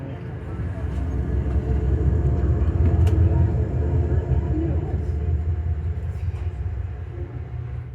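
A Metro North P32 DM locomotive rolls past near Poughkeepsie Station, making a steady, heavy low rumble that swells slightly through the middle and then eases off.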